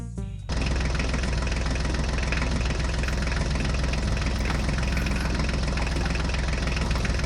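Toy John Deere and Swaraj tractors run with a dense, continuous mechanical engine drone that kicks in after a short start and stays loud and unbroken.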